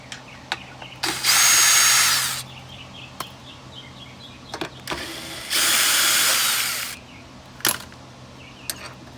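A power tool with an extension spins out a bolt during a windshield washer fluid pump replacement on a 1999-2003 Lexus RX300, two loud sustained whirring bursts separated by a pause, with clicks and faint ticking between.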